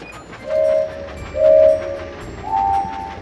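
A video game train rolls along its tracks with a low rumbling bed, and three separate tonal horn-like hoots sound at intervals, each fairly loud and short.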